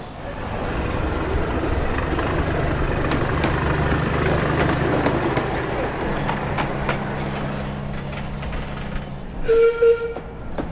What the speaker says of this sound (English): in the end the through train hammers past